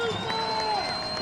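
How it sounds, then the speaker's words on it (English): A high school football crowd cheers for the defense at a 2019 Colerain versus Elder regional playoff game, a steady roar of voices filling the stands, with some sustained tones running over it. "cheering on this defense's big 3rd down and 5."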